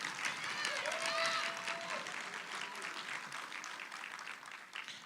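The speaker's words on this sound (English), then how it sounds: "Let's give Sakpo a good round of applause." A crowd at an awards finale event applauds with steady, dense clapping that slowly thins out, and a voice briefly sounds through the clapping.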